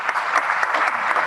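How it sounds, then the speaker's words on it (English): Brief burst of sustained audience applause at a formal academic ceremony on cancer, many hands clapping in an even, moderately loud wash. "Can we please give him another round of applause?"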